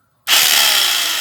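A Yojimbo mini jack hammer running in rotary drill mode starts abruptly after a short silence and holds a steady, loud, high-pitched whirring grind close by, with no talk over it.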